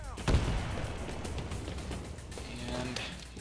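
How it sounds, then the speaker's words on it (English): A grenade bursts with a sharp boom in the video game Titanfall, followed by a rumbling tail and scattered gunfire in the background, with a voice talking over the fight. "Throw a grenade that way."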